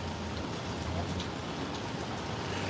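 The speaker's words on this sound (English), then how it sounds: "This is terrible rain." Heavy rain pours down in a steady, dense hiss with no breaks, swelling slightly louder toward the end, and no voices are heard.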